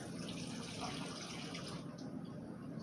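Water poured from a tap or jug into flour for flaky pastry dough, a soft steady hiss and trickle held at low volume for a few seconds.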